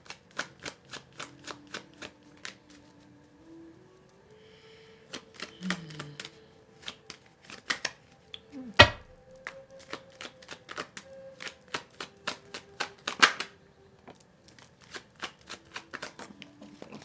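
Tarot cards being handled and drawn from a deck, with a steady series of crisp, close card snaps and flicks, plus a brief thud partway through, over quiet background music.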